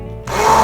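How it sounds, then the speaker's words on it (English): A hand blender starts up in a soy sauce mixture in a home kitchen, abruptly switching on to a loud, steady motorized whir that holds for under a second. "I find it best to just use my hand blender"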